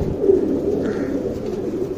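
Pigeons in a loft giving soft, close, low cooing over a brief moment of light scuffling.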